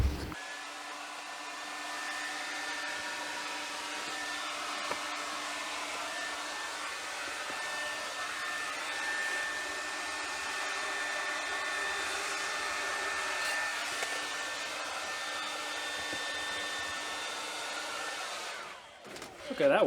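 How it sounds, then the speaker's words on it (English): Breath forced through a length of pipe packed with ash at one end, blowing into a wood kiln: a steady, loud, rushing roar with a faint whistling tone that holds evenly for about eighteen seconds before cutting off. "I'm gonna try to blow in a little bit of ash."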